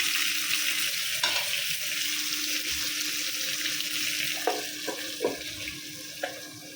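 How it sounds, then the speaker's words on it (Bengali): Potatoes fry in oil with turmeric and salt, a steady close sizzle with occasional stirring scrapes and clinks of a utensil against the pan. "আলুগুলা তেলে একটু হলুদ দিয়ে ভালোভাবে কালার করে বেজে নেব"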